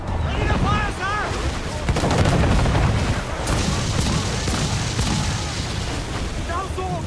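Naval cannon fire from warships in the Assassin's Creed IV video game, heavy booms and crackling volleys forming a dense loud barrage. Shouted voices and music are mixed in throughout.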